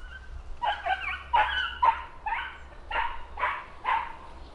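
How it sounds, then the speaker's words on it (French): A dog chasing a cat gives a run of about seven yelping barks in quick succession, moderately close, with a low rumble underneath. "c'est le chien qui court après le chat."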